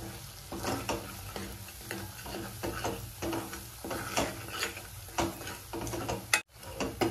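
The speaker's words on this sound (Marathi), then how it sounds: "आपल्या मसाल्याला छान तेल सुटेपर्यंत हा परतून घ्यायचा आहे" Masala of red chilli powder, onion-garlic spice and coriander-cumin powder sizzling in oil as it is stirred for shev bhaji, with a continuous close fry and repeated spoon scrapes.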